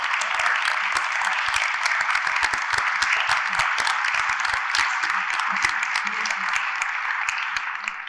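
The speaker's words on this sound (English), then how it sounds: "if you would be so gracious to stand up so we could give you a round of applause" A seated forum audience gives a sustained round of applause, dense clapping from many hands filling the room at steady volume throughout, tapering only slightly at the end.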